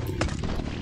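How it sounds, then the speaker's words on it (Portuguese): Glock pistol shots in the video game Last Day On Earth, a couple of sharp bursts over a continuous loud noisy game background. "Solta o tiro, Glock."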